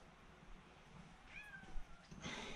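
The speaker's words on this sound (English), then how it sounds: "That little cat wants to come in here real bad." A small cat meows faintly outside, wanting to come in: two short, rising meows, one after the other, over quiet room background with no talking.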